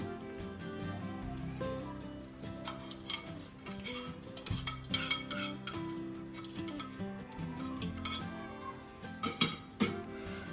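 Cooked rice being stirred together with a spiced tempering and peanuts to make tamarind rice, with a steady run of close scraping and clinking from a spoon or ladle and busy mixing noises, no one talking.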